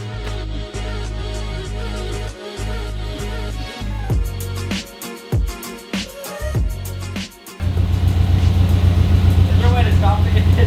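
The engine of a 2013 Subaru WRX with air suspension is running in a garage. A low, steady drone is interrupted by irregular clanks and hisses, and a louder rhythmic idle throb sets in near the end.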